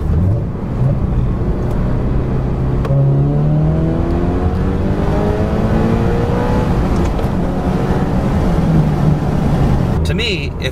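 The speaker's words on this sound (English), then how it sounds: "I think I might do a second gear pull and see Vivian's reaction." A 2022 Subaru BRZ engine pulls hard through second gear, its loud revving tone climbing steadily, with a smaller rise toward the end and people talking over the engine.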